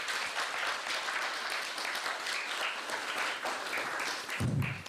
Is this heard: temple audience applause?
yes